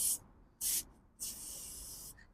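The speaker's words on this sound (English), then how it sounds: "Give me a little bit of spray." Three close, sharp bursts from an aerosol can: two short puffs, then a longer steady hiss, with quiet gaps between them. The spray is used on spare bolts during work on the air brakes of an AEC Matador.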